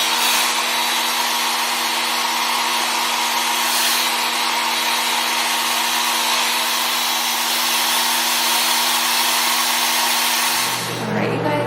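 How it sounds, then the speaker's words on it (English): A hair dryer on its cool setting blows steadily with a loud, even whoosh and hum that runs nearly the whole time, then cuts off near the end. "take your hair dryer on the cool setting and just blow dry that"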